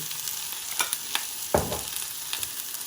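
Mushrooms cooking in butter in a pan with a little salt, giving a steady soft sizzle and crackle, with a few brief clinks and a louder scrape of a utensil partway through, heard close with no talking.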